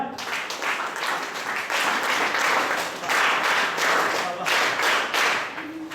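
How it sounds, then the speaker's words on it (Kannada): Audience applause at a prize-giving ceremony, a steady burst of many hands clapping together that carries on for several seconds with no pause, fairly close and loud. "ದ್ವಿತೀಯ ಬಹುಮಾನ ಸಂತೋಷ್, ಐಡಿ ನಂಬರ್ 3. ಚಪ್ಪಾಳೆ ಸ್ಟಾರ್ಟ್."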